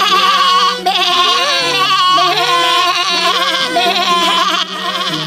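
Young goat kids bleating in a continuous chorus of wavering, overlapping cries, loud and close, with pitch sliding up and down and no pauses.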